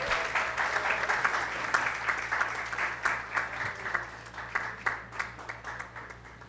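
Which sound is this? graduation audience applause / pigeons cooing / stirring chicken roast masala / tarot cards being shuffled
graduation audience applause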